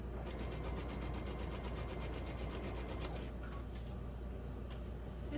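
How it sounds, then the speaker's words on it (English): A sewing machine stitches quarter-inch seams in a fast, steady mechanical chatter that runs close and continuous for several seconds, then stops and leaves a few scattered clicks and handling sounds. "gonna just sew all these 1/4 inches"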